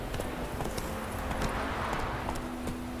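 Video-game horse Roach gallops in a steady clip-clop of hooves under a dense, noisy game soundscape with a low steady hum, with no clear talk over it.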